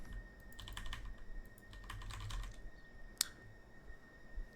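Someone types on a water-damaged, malfunctioning computer keyboard, producing soft bursts of quick keystrokes and one sharp louder click near the end, all fairly faint, with no talking.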